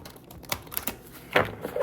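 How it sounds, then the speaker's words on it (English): A deck of cards being shuffled: a few crisp, papery riffles and snaps in short bursts, fairly close, with no voices. "I feel like shuffling the cards"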